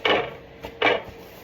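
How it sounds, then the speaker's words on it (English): A knife slices through a homemade sushi roll on a cutting surface, giving two close, crisp scraping cuts with a faint touch between them in a quiet kitchen. "cut it off like a real sushi roll"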